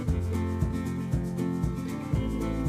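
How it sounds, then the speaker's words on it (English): Hands rub yellow mustard into a rack of spare ribs with a steady, close, loud scrubbing friction that repeats in even strokes over a low hum and has no speech. "Once again, just rub that into the meat"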